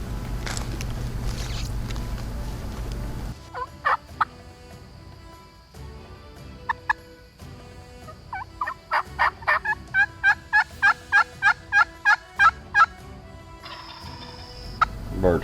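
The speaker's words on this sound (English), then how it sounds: "Birds kept responding and gobbling to us, but they were moving on off the other direction" Osceola wild turkeys gobble during a hunt, a rapid series of about a dozen loud, ringing gobbles from fairly close, preceded by a few scattered calls and low rustling.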